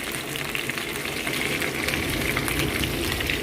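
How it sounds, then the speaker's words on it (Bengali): Potatoes fry in a pan alongside chicken for a meat curry, giving off a steady, moderately quiet sizzle with a constant crackling hiss throughout. "এই আলু ভাজা চলছে"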